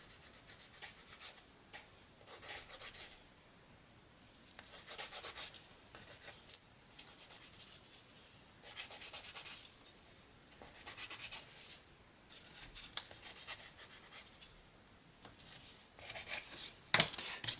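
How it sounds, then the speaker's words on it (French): Plastic parts of a 1/35 scale model tank are sanded by hand in quiet, close, repeated rubbing strokes that come in irregular bursts with short pauses between them. "Et de là ensuite, petit ponçage."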